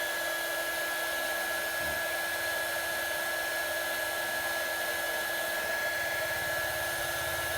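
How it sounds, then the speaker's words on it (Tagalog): A hair dryer used as a heat blower during an electric kettle repair, a loud steady whirring rush with a constant whine, running alone without voices. "I-blower natin para hindi na siya makawala."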